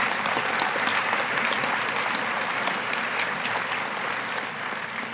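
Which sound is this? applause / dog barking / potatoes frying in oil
applause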